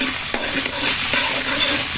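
Garlic and onion sauté in margarine in a pan, a steady close sizzle with stirring scrapes throughout and no talk.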